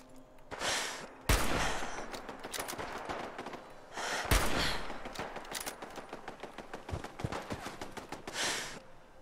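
Scattered gunfire in Fallout 4 with the Sim Settlements 2 mod, sharp shots and short bursts popping irregularly through a busy firefight, mixed with gasps and other game noise.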